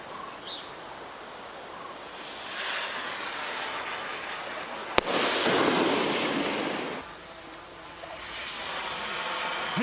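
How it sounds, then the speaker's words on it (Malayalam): Firecrackers burst by a forest department team to drive wild elephants from a settlement back into the forest, heard as a sharp crack followed by long hissing, rushing bursts at a distance, with quieter gaps between. "പിന്നീട് പടക്കം പൊട്ടിച്ച് കാട്ടാനകളെ വനത്തിലേക്ക് തുരത്തി."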